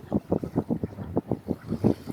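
Wind at about 16 knots buffets the microphone aboard a sailboat heading toward Plymouth, coming as close, rapid rumbling gusts in an uneven pulsing rhythm.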